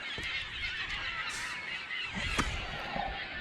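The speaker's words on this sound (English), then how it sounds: "catching seagulls. They're absolutely dive bombing his freaking bait right now" Seagulls call in harsh, honking bursts as they dive at fishing bait near the water, several overlapping cries at moderate distance over steady outdoor background noise.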